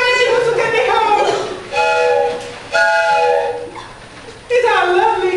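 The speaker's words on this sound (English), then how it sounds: "In the distance, a train whistle can be heard." Train whistle sound effect in a stage melodrama scene on railroad tracks: three long, steady, reedy blasts close by and loud, with short gaps between them and a gliding tone at the start and end.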